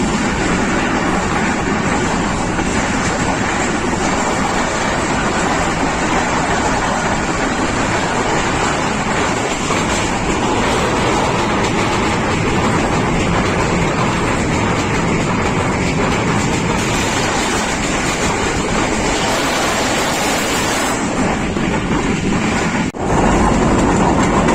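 The Pakistan Express, a Pakistan Railways train, running on a branch line toward a river bridge, a loud steady roar of wheels on rails with faint clickety-clack, heard close from inside the moving train.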